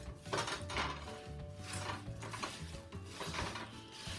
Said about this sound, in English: Going to give that a quick stir.